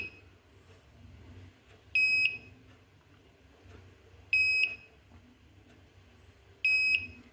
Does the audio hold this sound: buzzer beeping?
yes